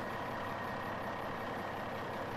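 A vehicle engine idling in the Fallout: The Frontier mod, a steady, even drone with a constant hum, close and unbroken for the whole stretch, with no talking over it.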